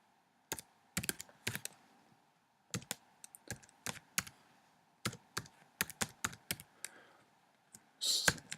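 Keystrokes on a computer keyboard while Java code is typed, irregular bursts of crisp close clicks with short pauses between words, over a faint steady hum and ending in a brief rustle.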